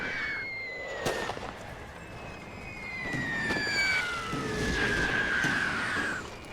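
Artillery fire in a World War I strategy game with a Russian Empire campaign: synthetic, whistling shell tones sweeping over a continuous battle rumble, with several sharp distant booms spread across the scene and no voices.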